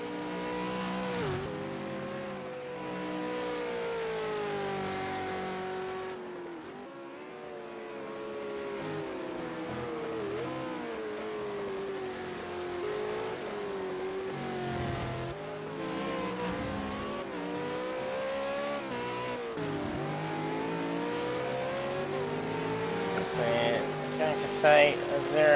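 Racing V8 Supercar engine in the Project Cars video game at Bathurst's Mount Panorama, a steady loud drone with rising and falling pitch through gear changes, running continuously under a commentator's talk.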